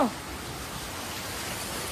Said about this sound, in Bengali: কি মারাত্মক বৃষ্টি নেমেছে গো